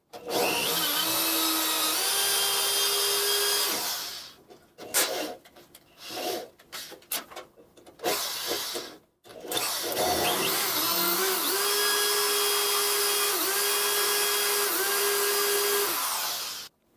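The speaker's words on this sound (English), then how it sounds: "use this 1/8 inch drill bit to drill a hole" A 1/8 inch drill bit bores pilot holes into center-punched screws, giving a sustained whining, grinding drill sound that stops and starts in short bursts midway, then runs steadily again. There is no talking.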